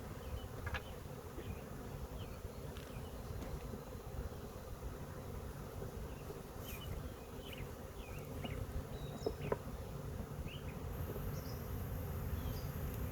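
A swarm of honey bees being captured outdoors fills the air with a steady, dense buzzing, with individual bees zipping close past at moments over the constant hum.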